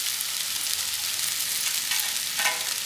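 Soaked poha (flattened rice) goes into a hot pan and is stirred for breakfast upma, producing a dense, continuous close-up sizzle with soft stirring scrapes. No voices.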